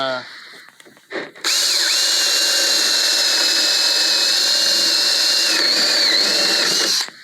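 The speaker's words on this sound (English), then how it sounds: "if you have a drill, like a paddle bit of some kind, you can" A power drill with a paddle bit whirs steadily for several seconds after a brief start, loud and close, with a slight pitch wobble as it bores through.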